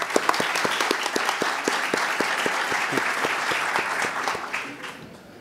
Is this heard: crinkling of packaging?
no